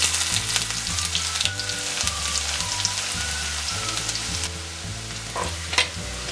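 Ginger and garlic fry in hot oil with fenugreek for a Kottayam-style fish curry, a loud crackling sizzle with spoon stirring over a low steady hum.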